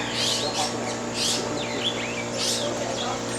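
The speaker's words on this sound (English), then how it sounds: "This area is also an aviary. Various different types of birds." Various birds chirp and call in an aviary at Zoo Atlanta, with repeated bright tweets and short bursts rising over a steady background hum, several calls overlapping at moderate distance.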